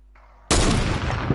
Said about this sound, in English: Someone was shooting at me when I was